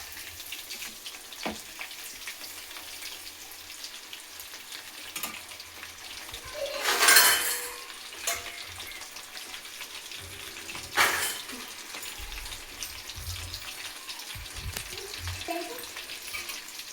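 KFC-style chicken frying in hot oil on a low flame, a soft continuous sizzle with a few louder crackling bursts, quiet and close.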